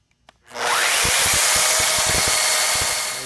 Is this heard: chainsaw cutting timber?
yes